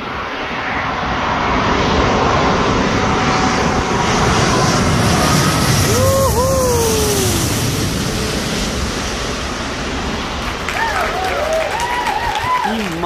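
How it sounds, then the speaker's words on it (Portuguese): A Boeing 787 airliner passes low overhead with a loud, sustained jet roar that swells and holds, while faint chirps and a voice sound around it. "Mais um Boeing 787."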